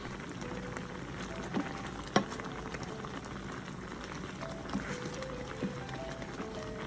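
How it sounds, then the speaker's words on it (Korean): A pot of instant Buldak Kitchen Vienna-sausage tteokbokki with rice cakes in water boiling steadily, a continuous soft bubbling and popping simmer with occasional louder pops, close and alone without talk. "보글보글 익는 소리만 들어도 기분이 좋아요."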